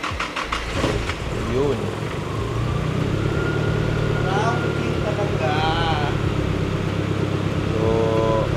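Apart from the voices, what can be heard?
car engine starting with borrowed battery, Toyota Yaris rally car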